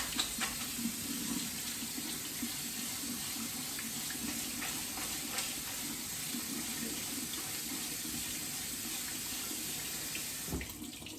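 Cool tap water runs steadily over cooked noodles in a sink for rinsing, a continuous close splashing stream with occasional knocks of the strainer near the end.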